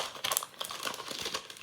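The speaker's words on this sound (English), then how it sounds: "And this is like velvet paper. I'm sorry for the noise." Velvet paper is handled and crinkled up close, a run of soft rustling crackles and crisp crumples in irregular bursts, fairly quiet.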